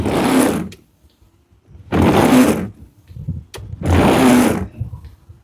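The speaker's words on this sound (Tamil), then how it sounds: "வைஃபரு" Windshield wipers on a used car at a dealership sweep three times at a steady pace, each pass a loud, broad swish of about a second with short quiet gaps between.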